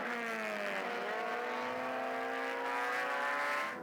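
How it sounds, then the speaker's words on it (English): SCCA Touring 4 race cars at the 2017 Runoffs wind up through the gears, their engines revving in a rising, sustained whine heard from a distance at moderate volume. "I can just hear those engines winding up and revving up"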